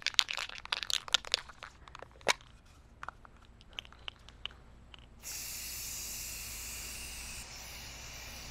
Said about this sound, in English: now we're just gonna be painting it